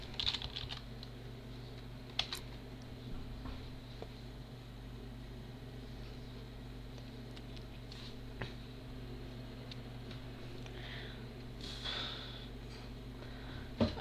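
Typing on a computer keyboard while entering a web address, soft scattered key clicks at a quiet, steady pace over a constant low hum.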